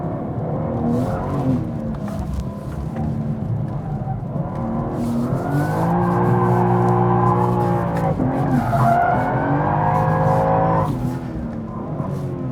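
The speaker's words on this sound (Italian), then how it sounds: "Stiamo scaldando la pista, che spettacolo di vettura!" BMW M2 driven hard on a race track, engine note holding and rising through gears with sustained tire squeal layered on top, continuous and fairly loud, no talking.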